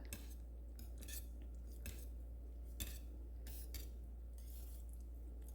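A spoon scrapes and clinks around a pot while mango ice candy mixture made with powdered milk is stirred, producing soft repeated metallic taps over a steady low hum from the stove area, with no one talking.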